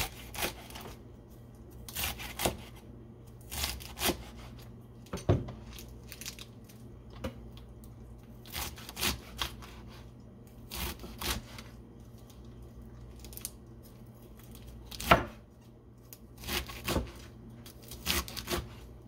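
Knife slicing collard greens thinly on a cutting board, a series of short crisp chopping strokes coming in quick bursts with brief pauses, close and moderately quiet, with no talking.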